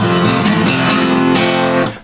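Acoustic guitar playing the opening bar of a song, ringing chords with a couple of sharp plucked accents, close and unaccompanied, fading at the end.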